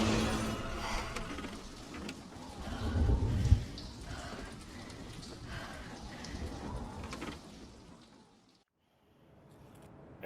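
Rain patters steadily in the video game The Sinking City, a broad hiss with a brief louder thump midway, fading to near silence before a sudden sound at the end.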